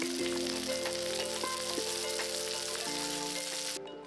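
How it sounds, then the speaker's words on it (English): Tofu fries in peanut oil with a steady, close crackling sizzle that runs unbroken throughout, easing slightly near the end. "I fried half of those up in some peanut oil till they were crispy on both sides"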